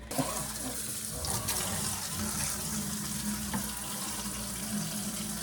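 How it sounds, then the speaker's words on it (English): Hot water runs steadily from a tap into a 5-gallon bucket, a continuous close rushing splash that holds a fairly even level throughout with no talking. "we're gonna fill our 5-gallon bucket with hot water halfway full"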